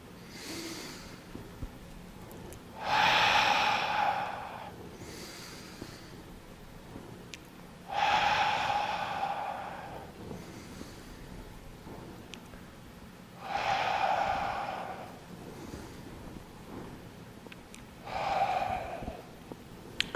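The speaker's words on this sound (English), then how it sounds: "Breathing in, breathing out, breathing in," Slow, deep breaths during a beginner tai chi qigong flow, four long airy inhales or exhales spaced several seconds apart, close and clear over a quiet room with no talking.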